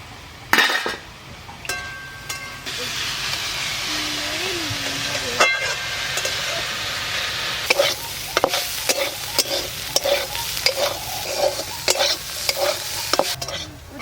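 Bitter gourd and potatoes fry in a pan, a spoon stirring and scraping in steady clinking bursts over a continuous sizzle, with a few louder knocks from the pot; no one speaks.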